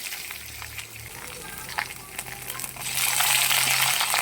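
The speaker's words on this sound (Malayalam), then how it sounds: "ഈ തേങ്ങാക്കൊത്തിൻ്റെ കളറൊക്കെ ഒന്ന് മാറി വരുമ്പോഴത്തേന് നമുക്കതിലേക്ക് കറിവേപ്പില ചേർത്ത് കൊടുക്കാം" Curry leaves dropped into coconut pieces frying in hot oil for a beef liver fry, giving a soft crackle that swells into a louder, hissing sizzle near the end.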